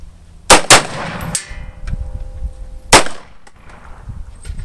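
Two or three loud, sharp gunshots ring out close by at an outdoor shooting range, each with a short metallic ring and decay, separated by quieter stretches of background rustle.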